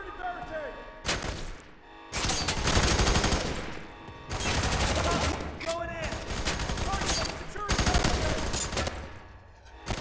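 Dense, rapid gunfire bursts from the F.E.A.R. 3 video game, loud and sustained with brief pauses between volleys, mixed with clattering impacts and shouted voices.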